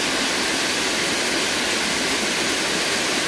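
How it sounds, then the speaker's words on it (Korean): Waterfall in Baegun Valley on Jirisan, a steady, loud, dense rush of falling water that fills the whole stretch evenly with no voices. "한 번 더 기탕 폭포를 보여드리겠습니다."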